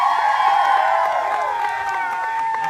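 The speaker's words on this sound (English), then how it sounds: "I want everybody to give a big round of applause for Mr. Brandon Taylor" A crowd at an East Gaston High School pep rally cheers and whoops for the band director, loud sustained shouting and applause with high children's voices over a steady roar.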